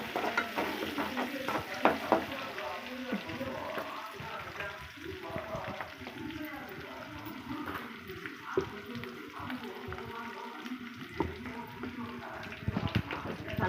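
Onions with green chillies, curry leaves and mint sauté in a pan for egg curry, a close sizzle broken by frequent stirring scrapes and clicks, with talk over it.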